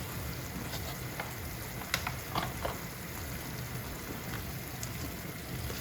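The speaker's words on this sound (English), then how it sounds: "So I'm just stirring it in." Ready-made sauce being stirred into chicken pasta in a pan, a steady low bubbling sizzle with a few soft scraping clicks of the spoon, fairly quiet and continuous.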